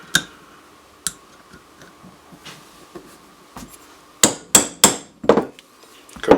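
A hammer striking a starter punch to drive out a splined trigger pin on a Smith & Wesson M&P pistol: a few sharp metallic taps, then a quick cluster of harder whacks near the end.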